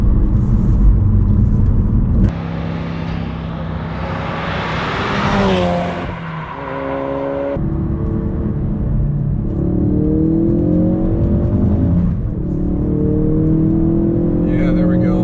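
A Ford Focus RS engine revs hard on a race track, climbing toward a redline near 7,000 RPM with rising whines and gear-change drops, loud and close, a voice briefly talking over it.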